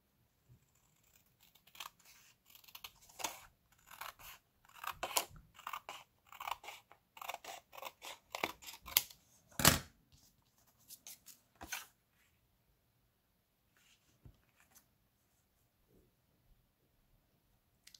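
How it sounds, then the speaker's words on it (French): Scissors cut paper for a Stamperia Magic Forest scrapbook album page in a quiet room, giving a run of crisp snips and rustles in irregular bursts, close and clear, with the cutting fading into near silence. "il faut que je coupe la partie là"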